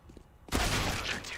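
Desert Eagle pistol fire in a Counter-Strike match, a sudden loud burst of gunshots erupting after a quiet lead-in and ringing on densely to the end.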